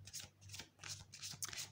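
A new deck of oracle cards is shuffled by hand, several soft riffling bursts in quick succession, close and quiet with no other sounds.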